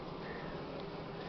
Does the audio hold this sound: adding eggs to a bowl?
no